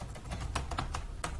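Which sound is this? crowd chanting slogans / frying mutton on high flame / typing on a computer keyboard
typing on a computer keyboard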